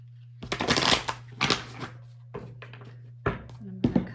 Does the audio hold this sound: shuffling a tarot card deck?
yes